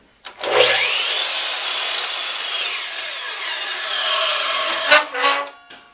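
A 10- or 12-inch miter saw cuts through 3.5-inch polystyrene foam crown molding. The blade spins up to a loud whine, grinds steadily through the foam for several seconds, then winds down. It is close, with no talk.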